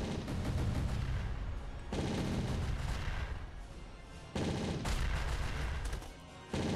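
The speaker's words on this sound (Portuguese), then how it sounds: "É muito satisfatório os barulhos das bombas estourando." Bombs explode in rapid bursts in the Castle Crashers video game, a dense, loud crackle of blasts that runs almost continuously like machine-gun fire, broken by two short pauses.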